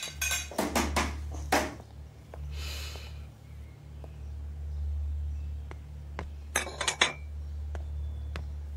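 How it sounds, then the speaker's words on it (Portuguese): Dishes and pots are washed in a home kitchen, with scattered clinks of cutlery and glass in short bursts over a steady low hum, close and moderately loud. "Eu já estou acostumada a lavar louça de casa."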